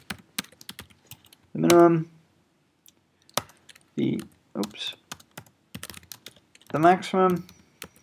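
Clicky computer-keyboard typing in quick bursts of keystrokes while working in R, with a nearby voice talking in between.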